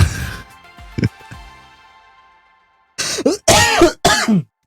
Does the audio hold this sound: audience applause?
no